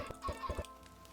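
Chickens clucking in the video game Minecraft, a few short close clucks in quick succession over a faint hiss of rain.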